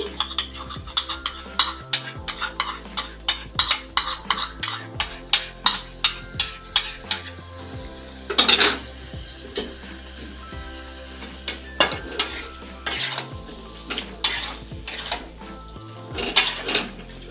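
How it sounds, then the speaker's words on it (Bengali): Whisked yogurt being stirred into a Bengali-style new potato curry (aloo dum), with a spoon scraping and clinking repeatedly against a metal pan in a steady rhythm, close and fairly loud, with no talking. "আমি একশো গ্রাম দই ফেটিয়ে রেখেছিলাম সেটাই আমি দিচ্ছি"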